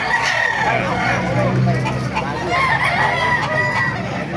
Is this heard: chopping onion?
no